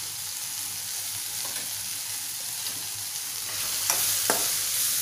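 Okra stirred in a hot pan with salt, turmeric and Malvani masala for bhindi bhaji, giving a continuous close sizzle and a few scraping spatula strokes near the end, with no voices.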